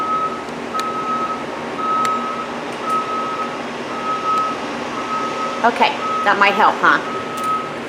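Truck backing up outside: a steady series of regularly spaced reversing beeps, moderately far, continuing through the whole stretch, while a person speaks briefly near the end over the beeping and background hum.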